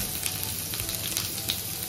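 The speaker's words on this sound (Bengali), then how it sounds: "দিয়ে দিচ্ছি আদা কুচি," Chopped ginger fries in oil in a wok, giving a brief, steady close sizzle with light crackles and no talking.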